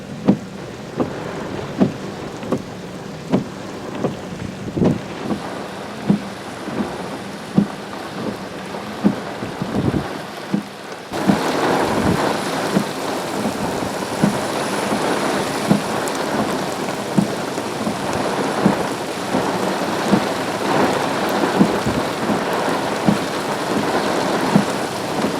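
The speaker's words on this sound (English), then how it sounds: "we got another severe storm here, this time in Fort Wayne, Indiana." Severe thunderstorm in Fort Wayne, Indiana, with 60 mph gusts: steady heavy rain and roaring wind that thickens partway through, punctuated by repeated close thunder cracks and rumbles, with no talk.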